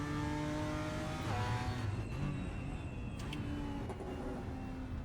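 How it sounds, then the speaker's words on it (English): A BMW M4 GT4 race car in a racing simulator drones loudly through a gear change, then several sharp exhaust pops and crackles burst out as the throttle snaps shut on overrun. "Oh, and the popping back through the exhaust when you snap the throttle shut on throttle overrun."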